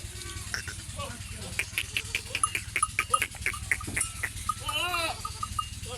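Goats bleat repeatedly at a goat farm in Dera Ghazi Khan, Pakistan, with overlapping quavering calls near and far, while someone talks over the steady background murmur.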